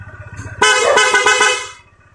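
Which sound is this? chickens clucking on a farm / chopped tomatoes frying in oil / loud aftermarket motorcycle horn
loud aftermarket motorcycle horn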